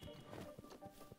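Horse hooves clip-clopping in Breath of the Wild, a steady walking beat that carries through the whole moment under busy game sound.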